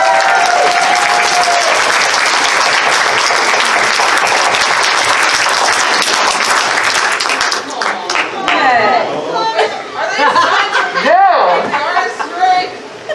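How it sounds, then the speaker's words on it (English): Convention audience giving a round of applause at a furry convention panel, dense sustained clapping for about seven seconds, then tapering into chatter, laughter and talking voices. "can we please get a huge round of applause for them?"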